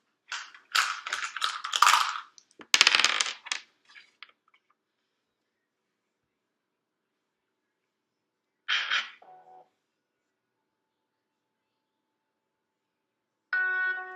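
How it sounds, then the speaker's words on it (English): Two dice clatter and rattle in a couple of quick bursts during a tarot reading, with bursts near the start and a brief roll later between long stretches of silence, and a short chime at the very end. "I'm going to draw 2 dice here."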